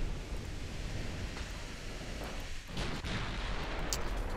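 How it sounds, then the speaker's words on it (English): A naval 15-inch gun salvo booms in a battleship game, heard as a dense, continuous roar of heavy rumbling blasts and sea-like noise that stays loud throughout, with no talk. "Last salvo on the 15-inch gun."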